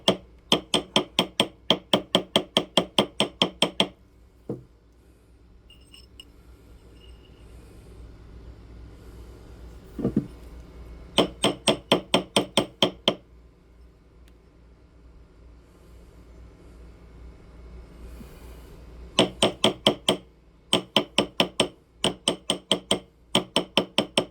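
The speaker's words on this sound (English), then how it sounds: "Now we're going to take our ball peen hammer and we're going to tap on the bottom just a little bit" Quick metallic ball peen hammer taps on a white gold ring come in rapid bursts of a dozen or so strikes, separated by quiet pauses with a faint hum underneath.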